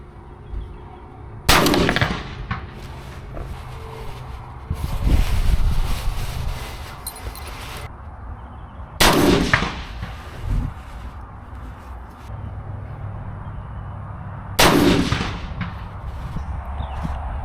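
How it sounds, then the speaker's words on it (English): A Bear Creek Arsenal AR-15 rifle in 6mm ARC fires sharp, loud single gunshots at a range, three distinct cracks spaced several seconds apart, with a rattle of handling noise between them. "I'm going to get some more rounds down range, and I'll let you guys see my shot groups."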